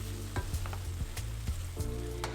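Minced meat sautés in a pan with salt and black pepper for Turkish boreks, a continuous close sizzle broken by repeated scraping stirs.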